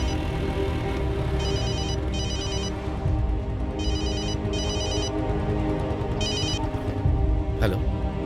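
A phone ringtone chirps in several repeated bursts over steady background music and ambience in a Hindi-dubbed South Indian action film, clear and fairly loud with no talk over it.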